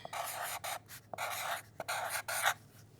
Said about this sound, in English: I am going to write my name on it, though